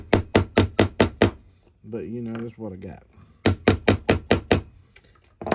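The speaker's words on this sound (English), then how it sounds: "So we're going to keep tapping it in. Probably would work better with a brass hammer" Hammer tapping a roll pin into a Maxus 2 during recoil spring maintenance: a quick run of six sharp metallic strikes, someone talking, then another steady run of taps, close and loud.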